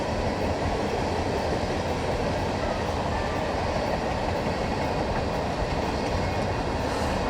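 A train rolling past at Indian Creek, a continuous broadband rumble with steady rail noise and faint clickety-clack, sustained and fairly loud from start to end with no voices.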